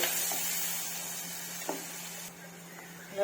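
Onions sizzle steadily in a hot pan with cumin seeds and a pinch of turmeric, a continuous close frying hiss with a faint hum beneath and no talking.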